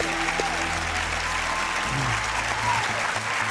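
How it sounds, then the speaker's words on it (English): Audience applause on a game show, steady dense clapping throughout with low hum and tonal background noise, a brief voice trace near the end. "That one I'll clap."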